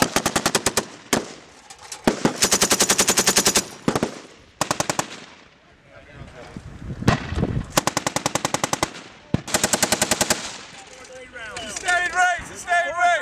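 Machine guns firing in a U.S. Marine live-fire exercise in Australia, loud close bursts of rapid automatic rounds separated by short pauses, with voices calling out between the bursts.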